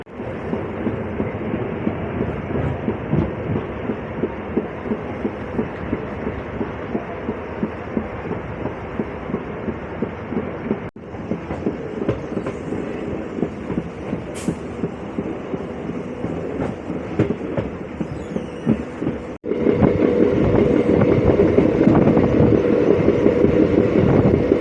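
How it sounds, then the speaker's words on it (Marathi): Akola–Akot passenger train pulling out of a small station on the Akola line, with a loud, continuous rumble and rhythmic wheel clatter heard from on board, briefly cut and resuming louder toward the end. "डिपार्चर होत आहे मित्रांनो आपलं."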